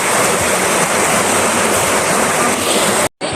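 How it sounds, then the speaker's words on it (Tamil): Water gushes loudly and steadily from a breached pond into crop fields beside a fallen tree, a continuous close roaring rush that cuts out briefly near the end. "எப்படி வந்து தண்ணி பாயுது"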